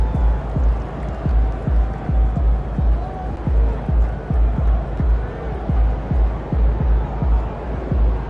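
Loud, continuous crowd roar in an arena in the video game NBA 2K25, with a steady rhythmic thumping underneath, like a ball bouncing on a court.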